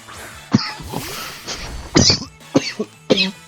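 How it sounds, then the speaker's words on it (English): Several sharp coughs in a row, close and loud, separated by short pauses and breaths. "I've got a really terrible cough right now"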